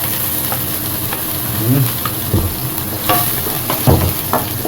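Garlic fries in hot oil with a steady, close sizzle, broken by occasional stirring scrapes and soft knocks of a utensil in the pan.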